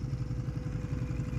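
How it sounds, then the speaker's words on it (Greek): An overheating Ducati Monster motorcycle sits with its engine hot as the radiator fan runs. A steady low mechanical rumble and whir continue evenly through the short stretch, close by, with no talk. "φέρνει εδώ ο ανεμιστήρας, ακούγεται ίσως που έχει πάρει μπρος"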